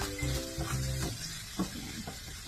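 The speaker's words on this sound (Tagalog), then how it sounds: "Saute lang natin until na mag-golden brown sila" Pork ribs sauté in a pan until golden brown, a continuous moderate sizzle with a few light clinks and stirring scrapes, no talking.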